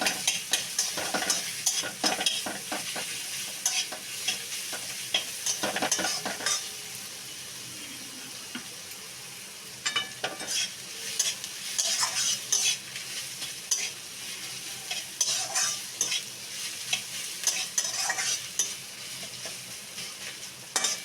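Ginger paste frying in hot oil for a pumpkin curry, a continuous close sizzle with frequent spatula stirring scrapes coming in bursts and a short lull midway, no talk.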